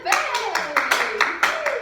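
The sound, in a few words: clapping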